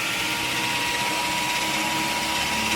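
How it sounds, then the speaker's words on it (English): A wire brush scours metal while a 2500 lb Traveller winch is fitted to a vehicle, a loud, close, continuous harsh scraping with a faint steady hum under it, heard briefly and without talk. "as Tony's over there with the wire brush now, he gave up on the knife and sandpaper"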